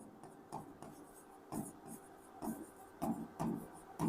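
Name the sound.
writing on a board while teaching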